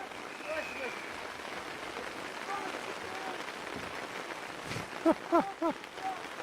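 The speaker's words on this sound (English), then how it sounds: "Pouring rain." Pouring rain at a rugby match, a steady hiss of rain throughout, with a commentator talking over it and a few brief crowd shouts near the end.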